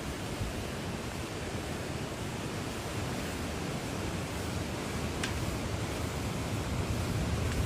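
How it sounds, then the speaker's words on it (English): Roaring floodwater from a flash-flooded Texas creek, a river tearing down trees and carrying giant logs, makes a steady dense rushing wash that holds throughout with no voices. "an absolute raging river, tearing down trees, throwing giant logs down the stream"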